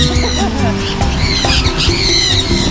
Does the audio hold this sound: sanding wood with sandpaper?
no